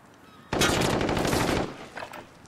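Video game machine gun firing one sustained rapid burst of about a second, loud and close, followed by a couple of fainter short bursts.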